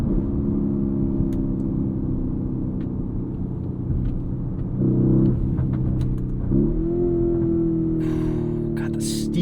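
A 2023 Lamborghini Urus S twin-turbo V8 SUV accelerates in city traffic, with a deep, loud interior engine rumble that swells in two pushes, each rising in pitch, with brief clicks and rustles near the end.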